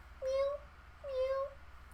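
Two short, clear meows, each a rising-then-level cry under a second long, close and moderately quiet over a low background hum; the meow appears to be a human voice imitating a cat during a casual word game.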